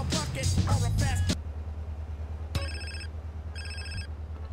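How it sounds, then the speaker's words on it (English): A game phone in GTA San Andreas rings in two short electronic bursts, a few seconds apart, over a low engine-like hum after a brief stretch of music and chatter. "Another phone call, okay."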